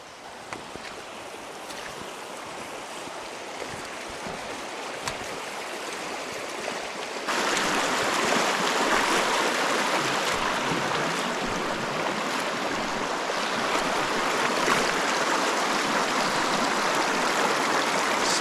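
River water rushes and splashes steadily in a Canadian wilderness setting where a campfire burns in the river, a constant broadband wash that grows louder and fuller partway through, with no talking.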